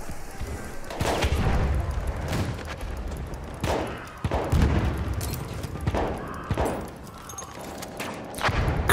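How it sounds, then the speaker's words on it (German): Automatic weapon fire from the video game Battlefield 1: repeated bursts of shots with booming thuds, loud and close, spread through a busy battle soundscape with no talk over it. "Die Waffe hat aber eine sehr schöne Schussrate"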